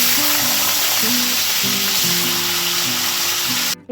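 Thick-cut potato pieces frying in oil in a pan, a loud, steady close sizzle with bubbling crackle throughout, cut off abruptly at the end.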